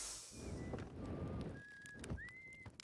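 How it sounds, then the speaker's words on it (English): Whistling in the video game Outer Wilds: a few thin, steady whistled tones rising and falling in short phrases over soft ambient rumble, moderately faint and without talk. "I hear whistling."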